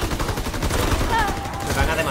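Shotgun blasts and rapid gunfire in a Nazi zombie video game, loud and dense throughout with overlapping shots and game effects, while someone talks excitedly over the action.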